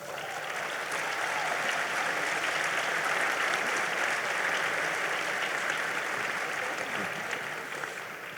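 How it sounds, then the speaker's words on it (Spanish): Sustained audience applause at a citizens' debate on Guatemala's future fills the room evenly for about eight seconds, a dense steady wash of clapping with no voices standing out. "para quienes les pido un fuerte aplauso."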